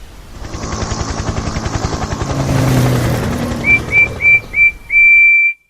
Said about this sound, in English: there was a helicopter buzzing loudly as it waited to land